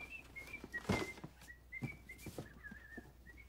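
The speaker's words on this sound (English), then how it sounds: "You know the great thing about whistling?" A person whistles a wavering, sustained tune that rises and dips in pitch, steady and fairly close, broken by soft thumps and rustles from people moving around nearby.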